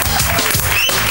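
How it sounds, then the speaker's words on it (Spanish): A short burst of audience clapping on a late-night television show, loud and close, with a faint voice mixed in. "¡Fuerte el aplauso para Internet!"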